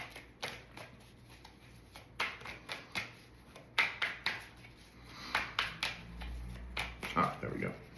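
Tarot cards shuffled and drawn by hand in a series of soft riffling flicks and taps, close and moderately loud, with a brief burst of speech near the end.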